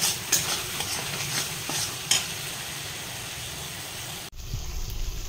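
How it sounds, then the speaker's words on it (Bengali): Water used to rinse poppy-seed paste from a mixer jar is poured into a frying pan of aloo posto, with potatoes and cumin, giving a hissing sizzle and stirring, then a sudden break and renewed bubbling. "মিক্সি ধোয়া জলটা দিয়ে দিলাম"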